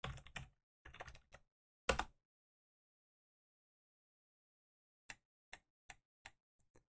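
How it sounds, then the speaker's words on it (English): Short bursts of computer keyboard typing as a search term is entered into Google on a PC, a quick series of crisp clicks alone in a quiet room after a few louder clatters. "Let's just type in a search term."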